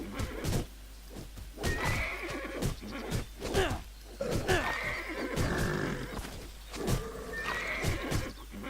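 Horse in the video game Titan Quest neighing and whinnying repeatedly, with snorts and hoof clops around it, fairly close and with no talk.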